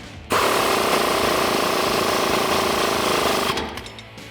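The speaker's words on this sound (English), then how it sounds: "Now with an 18mm socket and an 18mm wrench, tighten these down." An impact tool tightens bolts with an 18mm socket on a Jeep Gladiator JT while a leveling kit is installed, producing one loud continuous hammering rattle for about three seconds that then stops.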